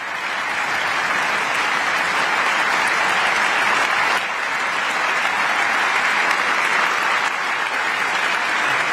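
Members of Germany's lower house of parliament applauding Volodymyr Zelenskyy, a dense, loud, sustained wall of clapping from a large chamber that continues without a break.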